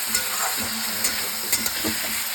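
Grated tomato and fried potatoes sizzle steadily in a pan, with a spoon stirring and scraping at irregular moments over the continuous frying hiss.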